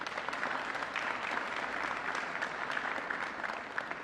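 A crowd applauds the East St. Louis police at an Illinois State Police public safety announcement, a dense, steady patter of many hands heard from a moderate distance, with no voices over it.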